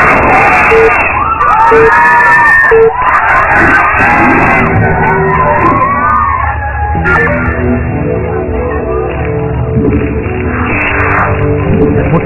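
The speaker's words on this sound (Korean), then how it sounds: "오늘은 함성이 어찌나 큰지 소리가 좀 갈라지는 듯하게 들립니다" A huge crowd of fans roars and cheers at a 2004 StarCraft MSL league match, loud and clipping to the point of distortion, with shouts and whoops over a dense continuous din and a commentator talking through it.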